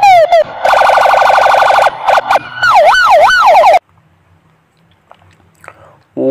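A toy police siren wails loudly in rising and falling electronic tones, alternating patterns for a few seconds, then cuts off abruptly into near silence.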